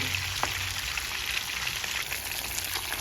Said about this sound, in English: fish is frying lovely